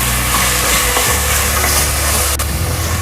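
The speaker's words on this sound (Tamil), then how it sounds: "இந்த பச்சை மிளகாய், ஜீரகம் இதை போட்டுக்கலாம். போட்டுட்டு லைட்டாக மிக்ஸ் பண்ணி விட்டுக்கலாம்." Ground green chili and cumin get stirred into coconut milk for Tirunelveli-style sothi, producing a steady, loud scraping and swishing in a pan with a brief clunk midway.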